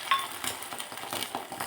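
A boiled egg sizzles gently in hot oil in a small tempering pan over low gas, with soft crackling and a few light metallic clinks of a utensil, close and without talk.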